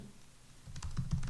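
A few quick keystrokes on a computer keyboard while HTML markup is typed, soft clicks close by over a low background hum, lasting about a second.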